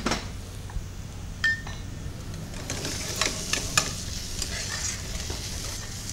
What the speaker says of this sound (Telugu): సో కొద్దిగా ఆనియన్స్ ఫ్రై అయ్యాయి.